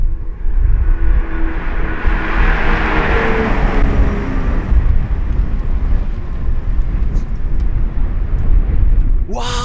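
A Lamborghini Revuelto supercar, a test car with devices fitted on its wheels, roars past loudly with a deep engine rumble that builds and fades, while a voice speaks briefly over it.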